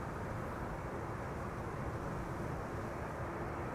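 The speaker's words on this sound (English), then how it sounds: "United flight 968 arriving from San Francisco, 777-200 9 hours and 56 minutes on the way" A United Boeing 777-200 airliner arriving at Amsterdam Schiphol after a nearly ten-hour flight from San Francisco produces a steady, broad engine roar that holds at constant loudness throughout, with no voices.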